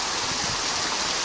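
A mountain stream running high with extra water makes a steady broadband rush that stays close and constant throughout, with no voices.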